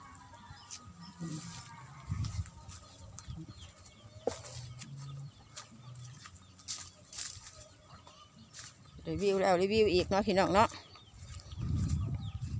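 Chickens and fighting cocks on a rural farm in Thailand, with a rooster's wavering crow rising near the end and scattered clucks around it, while a person talks intermittently nearby.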